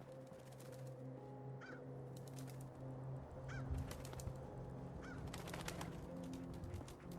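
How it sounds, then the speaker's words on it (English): Geese and other birds honk and call in Fallout 4 near a brewery, a dense flock of repeated honks with scattered sharper cries over a steady outdoor ambience. "All these birds flocked here for a reason."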